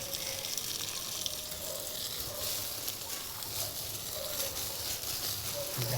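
Water splashes onto papaya plants in a school vegetable garden. A steady, soft hiss of pouring water runs throughout at close range.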